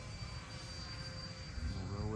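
A Freewing A-10 Thunderbolt II radio-controlled model jet with twin 80mm ducted fans flies at part throttle, giving a steady whining drone that shifts in pitch as it passes, while someone talks.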